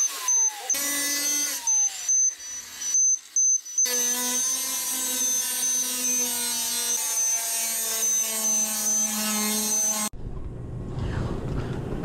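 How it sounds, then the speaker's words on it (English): An angle grinder with a cutoff wheel cuts into a steel safe: a loud, sustained high-pitched whine with harmonic tones, broken by short pauses early on, then running steadily before stopping abruptly into a noisy rumble. "Angle grinder versus safe."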